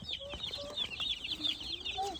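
Young broiler chicks peeping softly with high, thin repeated chirps, faint and continuous, with a bit of low clucking mixed in and no voices.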